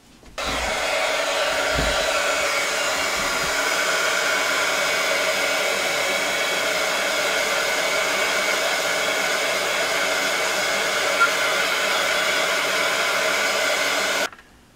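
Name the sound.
heat tool drying alcohol marker ink on vellum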